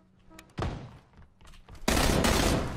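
An AK rifle fires in the video game PUBG, with a short sharp shot burst near the start and then a loud, sustained blast of gunfire to the end.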